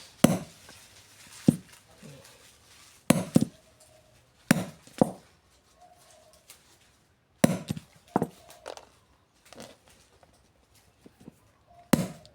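A hole is punched into a metal bag clasp with sharp, hammer-like strikes that come in short clustered bursts every second or two, close and loud against a quiet background.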